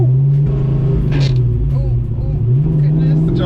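A Ford Foxbody convertible engine drones loud and close, a steady low rumble with slight rises in pitch as it pulls, while people talk over it.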